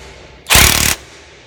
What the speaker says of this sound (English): Now you can run it up with the rattle gun or the impact wrench